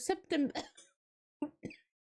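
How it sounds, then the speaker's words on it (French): An asthmatic cough comes as a short burst of three harsh, close coughs, followed after a pause by two quieter ones, with nothing else in between. "Désolée hein, pour ma toux."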